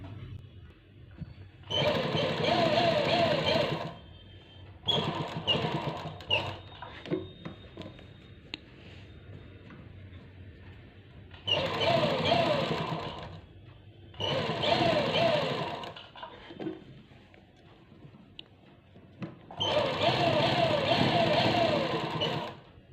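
A sewing machine stitches piping onto a garment neck design in several loud, steady whirring bursts separated by pauses, while a voice talks in between.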